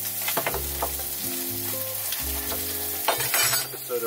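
Butter sizzles and crackles in a frying pan at a campsite, with steady frying hiss broken by scraping and clinking of a utensil stirring against the pan, close and fairly loud.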